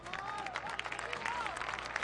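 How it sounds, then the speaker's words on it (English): Stadium crowd in a USL match applauding substituted footballer Omar Bravo of Phoenix Rising FC as he leaves the pitch against Whitecaps FC2, a steady, continuous wash of clapping with a voice talking over it. "Bravo gets a big round of applause."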